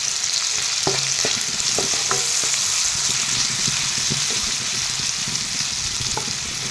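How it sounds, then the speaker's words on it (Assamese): Salted onions sizzle steadily in a pan, a bright continuous frying hiss punctuated by intermittent scrapes and clacks of stirring, close and alone without voices. "ৰং চঙোৱা নোহোৱালৈকে মই পিয়াজখিনি ভাজি দিম"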